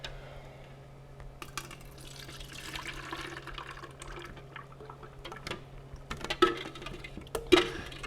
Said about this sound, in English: then we'll pour it right into our ice cream maker